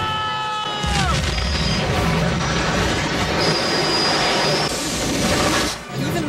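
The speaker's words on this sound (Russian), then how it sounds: "Поезд с паровой тягой не может достичь такой скорости" A steam locomotive in a film action scene rumbles loud and close, with heavy continuous rolling noise, squealing metallic wheel tones and a deep boom-like roar sustained throughout.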